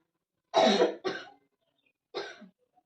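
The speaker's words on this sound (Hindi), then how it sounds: "थोड़ी सी खांसी आ गई थी।" Three harsh coughs, two in quick succession and one more after a pause, close and with nothing else around them.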